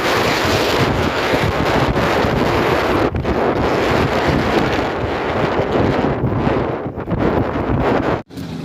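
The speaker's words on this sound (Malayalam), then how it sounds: "ഈ മലയുടെ മുകളിലൊക്കെ ചെല്ലുമ്പോഴത്തേക്കിന് നല്ല കാറ്റാണ്" Strong, steady wind roars and buffets the microphone throughout on a hilltop in Vagamon, Kerala, with a brief lull near the end.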